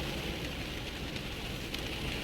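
Steady rain falls continuously, a dense, even hiss of drops on surfaces filling the whole stretch without pause, close and fairly loud with no voices.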